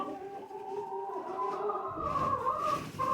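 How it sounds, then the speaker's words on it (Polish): Faint, muffled chicken clucking and throaty calls over a low continuous background hum, fairly distant. "A co ta kura robi drugiej kurze?"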